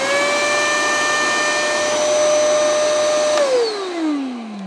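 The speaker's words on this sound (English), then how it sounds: "And that's the vacuum" A Eureka carpet spot cleaner runs with a loud, steady high motor whine and hiss, then winds down as it is switched off, the pitch sliding lower over the final second.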